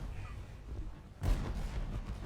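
Naval gunfire in War Thunder gameplay, a single heavy boom that bursts out after a low ambient rumble and trails off into a rolling echo.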